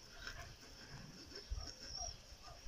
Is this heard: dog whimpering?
yes